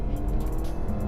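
Close, steady engine roar from a faulty BMW X2 accelerating on a race track, a continuous low rumble with slight wavering and a faint hint of tire noise.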